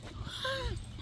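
A puppy lets out a single thin, rising-then-falling whimper at close range, heard over a steady background hum with no speech.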